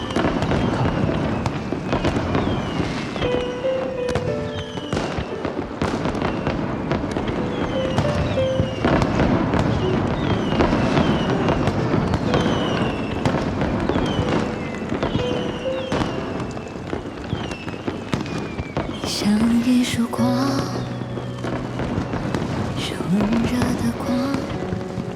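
A fireworks display on a snowy night: dense, continuous crackling and popping bursts throughout, with a faint melodic tone threading through the later part.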